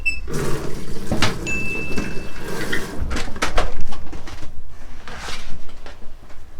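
Vegetables being washed by hand in water for pickling, with splashing, rubbing and clattering handling sounds close up, some brief squeaks, continuing steadily with no talk.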